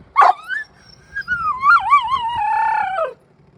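A dog lets out a sharp yip followed by a long, wavering whine and howl of complaint as a boat leaves without her at Okefenokee Swamp, Georgia, alone and fairly close.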